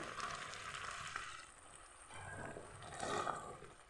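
Pasta, just drained after light boiling, is tossed and stirred in sauce in a pan, giving a faint, soft sizzle with gentle scraping and shuffling movements rising and falling, no talking.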